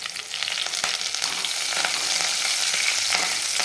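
Curry leaves and onion sizzle hard in hot oil while a simple spicy potato curry gets its tempering. The frying is loud and crackling throughout, with light stirring scrapes mixed in.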